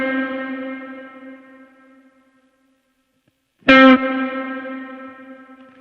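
A guitar note played through effects and held as it rings out, a worship-style tone with long reverb decay; a first sustained note fades to silence, then a loud new strum rings and slowly decays.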